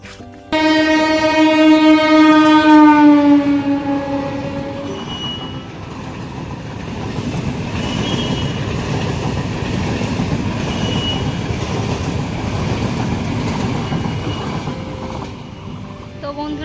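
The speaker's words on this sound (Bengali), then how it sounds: "এখনই ট্রেন ঢুকবে তোমাদের দেখিয়ে দিচ্ছি" A loud train horn blares as a train arrives in rural Bengal, then the heavy rumble and rattle of the train rolling past close by, steady for several seconds.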